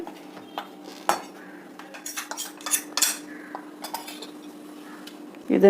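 Ground date and rice flour mix is scraped and tapped onto a plate with a metal spoon, giving scattered close clinks and scrapes against a steady low kitchen hum.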